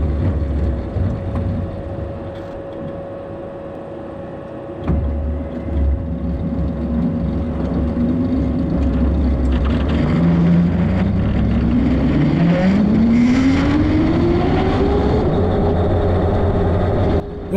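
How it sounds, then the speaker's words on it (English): A homemade electric buggy driving outdoors across a field, its motor whirring steadily and loudly, then a rising whine that climbs in pitch as throttle is applied before the controller cuts the power. "But I wanted to show the controller cutting power one more time as I left."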